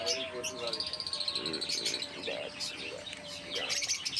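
Caged young lovebirds tweet and chirp in short, bright bursts at close range, a busy, irregular chatter over a low background with a faint steady tone.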